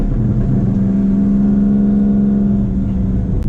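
A loud, close 2000 Lamborghini Diablo GT V12 engine drones with a steady, throaty hum, holding a fairly constant pitch before easing off at the end.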